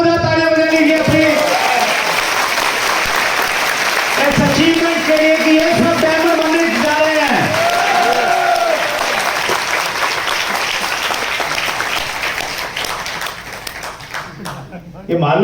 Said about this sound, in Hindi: एक बार जोरदार तालियां बजा लीजिए अपनी